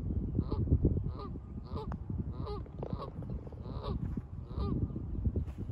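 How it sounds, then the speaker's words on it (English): Geese honk repeatedly in the background of a golf course, a steady series of nasal calls spaced about every half second to second, set against low outdoor rumble. "Got the geese in the background."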